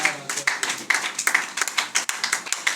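A church congregation claps together in a steady rhythm of about two beats per second, crisp and fairly close, with no pause.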